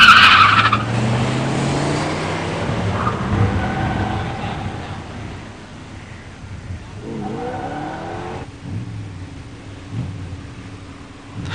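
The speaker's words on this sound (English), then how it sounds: "In the near lane, Tom Martin's 86 Grand National. In the far lane, Randy Rigotti's 72 Demon 340 automatic." Drag race launch between an 86 Buick Grand National and a 72 Dodge Demon 340 automatic: loud tire screech and engine roar up close, then engines revving and fading down the strip.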